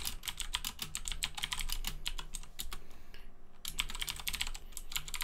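Rapid, steady keystrokes on a computer keyboard while entering Linux update and upgrade commands for a GNS3 server install, close and clear with a brief pause partway, no talking.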